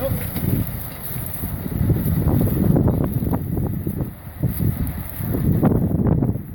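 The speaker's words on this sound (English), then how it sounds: "Since it is windy, you gotta watch for flyaway plastic." Steady wind buffets the microphone in low gusty rumbles on a farm field, rising and falling over several seconds, with some rustling underneath.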